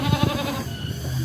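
A young goat in a stall gives a few short, close bleats in quick succession, then fades to quieter background.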